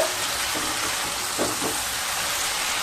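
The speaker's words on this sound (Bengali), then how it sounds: "আর পেঁপেকে দিয়ে দেব। দিয়ে আবারও খুব ভালোভাবে কষিয়ে নেব।" Raw papaya and fried potato being stir-fried in a pan, a steady close hiss of sizzling oil throughout with a couple of faint scrapes from stirring, no talk.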